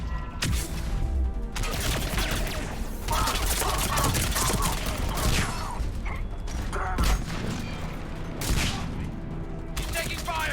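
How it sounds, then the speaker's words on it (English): Sustained gunfire rattles through a chaotic firefight in the video game Mass Effect 3, bursts and volleys overlapping almost continuously with impacts and mechanical clatter, loud and dense throughout. "He's taking fire! Protect him!"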